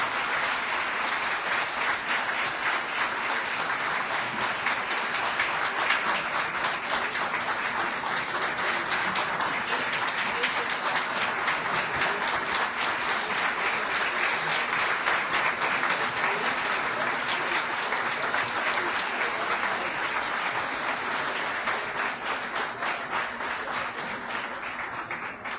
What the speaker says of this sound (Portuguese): Quero uma salva de palmas.